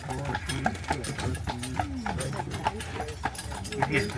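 Hooves of a three-horse team clip-clop steadily while pulling a carriage on Mackinac Island, the rhythmic clopping running throughout under continuous nearby talk from the riders.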